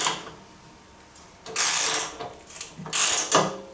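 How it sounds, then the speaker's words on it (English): A wrench tightens the nut on an Ariens snowblower chute in short bursts, giving two or three rapid ratcheting clicks up close with brief pauses between them. "Now tighten up the nut in increments and check the chute for how stiff it is"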